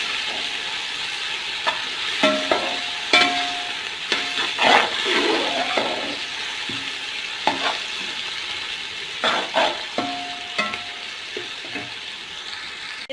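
Onions fry in a pan for aloo pulao and are stirred until dark brown, a steady close sizzle broken by repeated scraping and clattering strokes of the spoon against the pan, with no voices.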